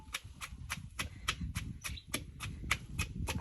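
A mortar and pestle pounds grilled beans with pork for a spicy Thai dish, striking about a dozen times in a quick, even rhythm, close and fairly soft.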